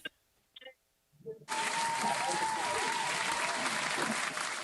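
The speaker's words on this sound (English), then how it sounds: "Let's give her a round of applause, you guys" A live audience breaks into a loud, sustained round of applause for a speaker, following a few seconds of brief, quiet voices before the clapping starts.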